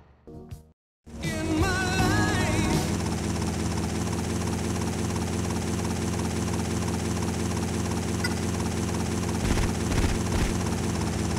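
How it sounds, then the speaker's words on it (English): Helicopter in the video game GTA Vice City Stories flying close by, a loud, steady rotor and engine drone that starts abruptly after a brief gap and continues unbroken. "Take my copter."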